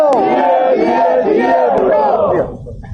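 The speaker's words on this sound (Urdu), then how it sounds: "جب نعرہ مارا جائے تو سارے جواب دیتے ہیں" Pakistan Peoples Party workers at a rally chant a Bhutto slogan back in unison, with a loud, near chorus of many voices shouting together before it drops away.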